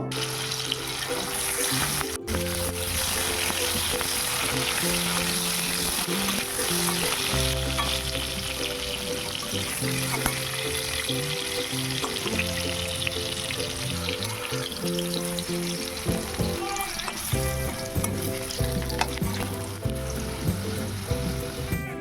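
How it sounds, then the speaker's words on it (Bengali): Potatoes frying in oil in a home kitchen for a Sunday chicken curry, a steady sizzle under a busy layer of clinks and scraping, with tonal ringing from utensils or a nearby tap throughout. "চিকেনে আলু দিয়ে বানাবো, আলুটা আগে ভেজে নেব।"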